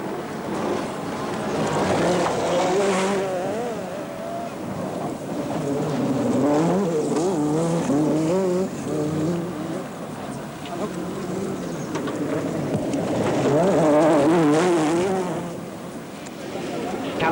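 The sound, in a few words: rally cars racing, Rally Portugal 1984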